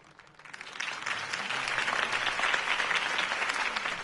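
Crowd in a video game applauding Harvey Dent's campaign speech, clapping that swells quickly from quiet to a full, steady roar and holds for several seconds, with no talk over it.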